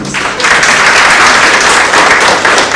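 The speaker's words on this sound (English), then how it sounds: "Could we kindly give them another round of applause" Audience at a business transformation indaba gives a sustained round of applause, dense steady clapping filling the room at full volume with no talk over it.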